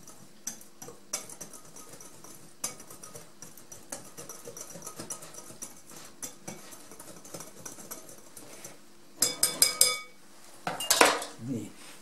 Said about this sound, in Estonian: Ja nüüd ma segan nad kõik ilusti ära